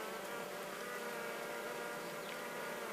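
Honeybees hum in a dense, steady drone at a hive whose colony is small, a continuous close buzz with no pauses and no voices.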